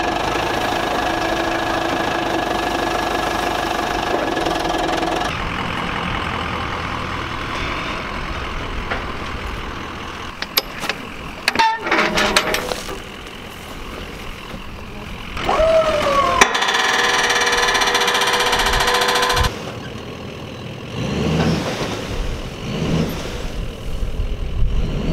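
A truck engine hums steadily and loudly while driving down the road, its drone shifting in tone and level a few times over the stretch.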